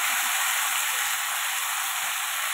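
Chopped bottle gourd and slit green chilies hit a hot tempering of oil, bay leaf and dried red chilies, releasing a loud, dense, continuous hiss that holds steady throughout.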